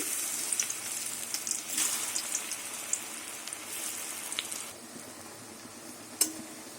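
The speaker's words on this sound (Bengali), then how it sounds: "একদিকে ভাজা হয়ে গেছে এবার উল্টিয়ে দেবো" Taro leaf fritters fry in mustard oil over a low gas flame, giving a soft, continuous crackling sizzle with scattered pops and one sharp clink near the end.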